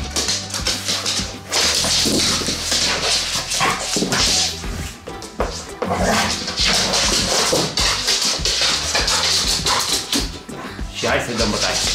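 A dog barks and whimpers in loud, repeated bursts, with sharp cracking sounds, other loud noise mixed in and talking over it.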